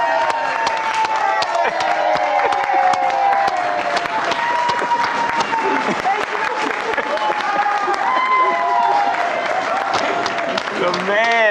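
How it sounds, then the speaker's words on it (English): Office staff in a newsroom applaud and cheer for a colleague, a steady wash of clapping and whoops with several voices talking and shouting over it throughout. "Dude, I saw hands clapping in the back corner of the office."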